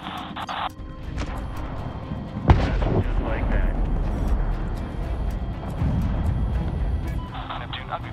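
A missile launch and explosion in the 2010 Medal of Honor video game, with a sharp blast followed by a heavy rumbling roar under loud battle noise and radio-style voices.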